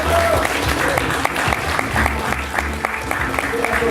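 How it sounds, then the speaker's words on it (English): Convention audience at Amecon 2012 applauding during a Fighting Talk panel, steady hearty clapping and crowd noise with a few cheers, loud and continuous. "we're going to take this on the back of a round of applause from the assembled"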